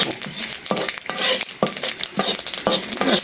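Panch phoron spices fry in bubbling oil in a pan for an olive pickle. Rhythmic spoon scrapes and stirring strokes, about one every half second, sound close and crisp over a soft sizzle.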